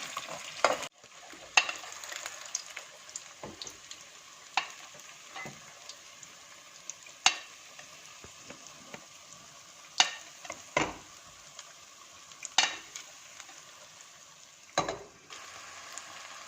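Semolina roasting in desi ghee and being stirred in a pot for halwa, with a quiet steady sizzle and repeated sharp scrapes and clinks of the spoon against the pan at irregular intervals, no voices.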